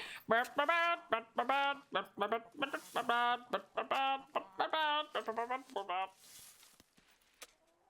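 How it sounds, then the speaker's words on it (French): Harmonic, rhythmic clucking calls of a chicken in the video game Fable III repeat in quick bursts, loud and close, fading into quiet at the end. "C'est qu'elle chante la poule derrière"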